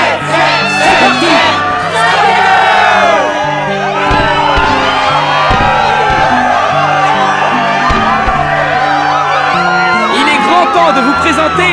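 Arena crowd in the Kingdom Hearts 2 video game roaring and cheering loudly and continuously, with whoops and shouts over a swelling musical fanfare.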